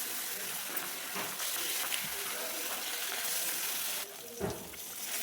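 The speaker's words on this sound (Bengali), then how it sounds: "এবার মাছটাকে ভেজে নেবো" Rohu fish rubbed with salt and turmeric sizzles steadily in hot oil, a dense, close frying hiss that dips briefly near the end before resuming.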